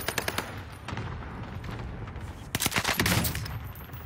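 Video game gunfire: rapid bursts of automatic shots crackle in quick clusters at the start and again near the end, with a noisy battle bed between them.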